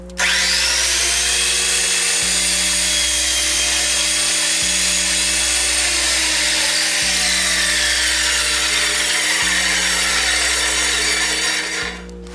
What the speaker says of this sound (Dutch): Dus nu ga ik die hoek daar afzagen.